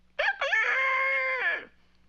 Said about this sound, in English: Fifi sounds like a rooster.